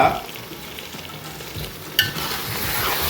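Yogurt being stirred into a pan of country chicken curry: a soft sizzle under scraping spoon strokes, with one sharp clink of utensil against pan near the end, close and fairly quiet.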